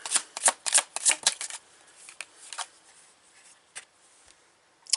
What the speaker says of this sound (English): So this is what I'm going to do. I'm going to pull a couple more cards.